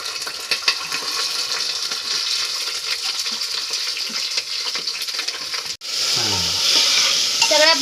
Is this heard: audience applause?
no